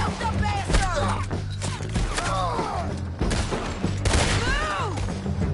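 Gunfire in a Red Dead Redemption 2 shootout on a bridge, scattered shots and thuds cracking over a loud, busy battle backdrop with shouting voices mixed in.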